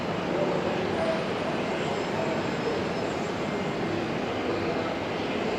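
Airbus A320 taking off at Auckland International Airport, a steady broadband engine roar that holds at a constant level throughout, distant and continuous rather than rising to a close pass.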